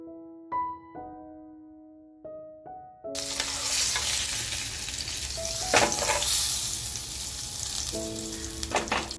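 Stuffed pomfret filled with baby shrimp fries in a pan, opening with a few soft clinks before a loud, steady sizzle takes over, with brief stirring scrapes partway through.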